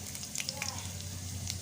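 Potatoes frying in a covered pan give a steady low sizzle and crackle, with a few brief sharper pops near the start.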